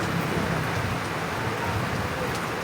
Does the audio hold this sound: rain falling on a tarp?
yes